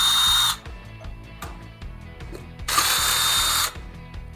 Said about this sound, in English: a drill is even a lot faster than that. So all we need to do is just zip these bolts out the rest of the way